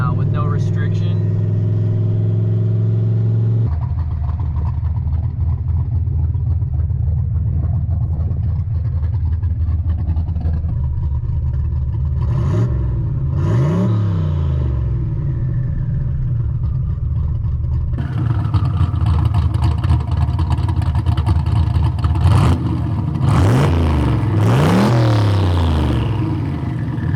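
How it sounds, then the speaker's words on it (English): Turbocharged Foxbody engine running straight-piped through an electric exhaust cutout, a loud steady idle rumble broken by several sharp revs that climb and fall, with a voice talking over it. "It revs like mad now with no restriction"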